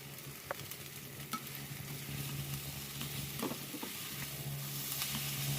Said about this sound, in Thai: เส้นที่เราลวกไว้ตะกี้นะคะแล้วก็ผัดไปค่ะตอนนี้